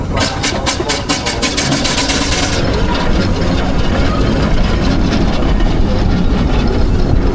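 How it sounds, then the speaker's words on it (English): A Foster 4-inch agricultural steam engine runs at a spring steam fair, its loud, steady mechanical beat of rapid rhythmic chuffs and clanks continuing close by with no talking. "Basically a 4-inch agricultural engine."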